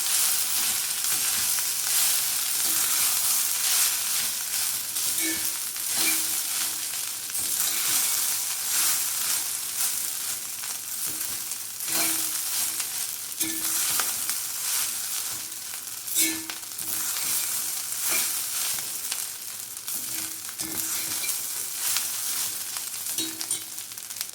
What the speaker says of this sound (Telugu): ఈ వెజిటేబుల్స్ అన్నీ ఇందులో కలిసేలాగా కలిపేసుకుని